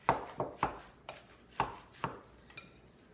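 Meatball mixture with breadcrumbs is mixed in a bowl, giving about seven soft, separate thumps at an uneven pace, close and quiet.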